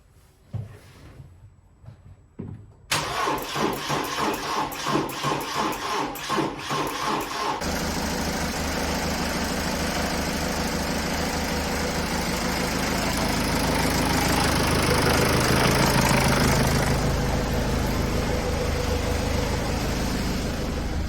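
A BMW E91 320d diesel engine cranks and catches after a quiet moment, then settles into a rough, clattering idle. It rises to a louder, steady running drone, heard close with no talking.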